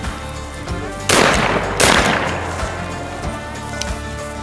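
Two loud shotgun blasts fired at quail on a hunt, about 0.7 seconds apart, each a sharp broadband crack with a short decaying tail over quiet outdoor background.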